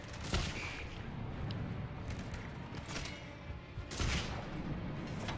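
Dense, continuous gunfire from a Mass Effect 3 firefight in tight quarters, with rapid bursts and heavier booming shots at about 0.4 and 4 seconds, loud and sustained throughout with no talking.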